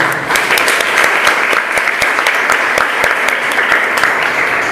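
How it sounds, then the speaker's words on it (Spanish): Loud, dense applause from a church congregation during a worship service, steady sharp clapping filling the room with no pause and little else heard. "Dale un fuerte aplauso, papá Dios."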